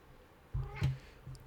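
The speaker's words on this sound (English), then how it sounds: "Hello, cat. What are you up to?" A house cat meowing nearby, two or three short soft meows in quick succession, faint but clear against a quiet background.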